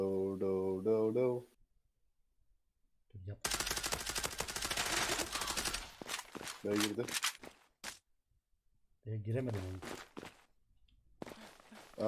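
Gunfire in the video game Zula comes in a dense burst of rapid automatic shots, followed by scattered single shots, with players talking before and after.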